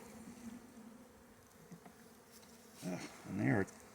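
Honeybees stir in an opened hive during an inspection, a faint low buzzing that swells into two louder, agitated bursts near the end; a little background noise but no clear talk.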